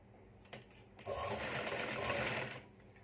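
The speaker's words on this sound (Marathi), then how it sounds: "तर इथे बघा तुरपाईसाठी टिप टाकून घ्यायची आहे" A sewing machine stitches a folded strip of fabric for a hook-and-eye tape, starting with a few separate clicks, then running in one loud, continuous whirring burst of about a second and a half before stopping, with no voice over it.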